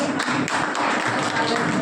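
Applause from an audience at a Brahma Kumaris ashram gathering in Singrauli district, a dense, steady patter of clapping that fills the whole moment, loud and close with a busy crowd texture.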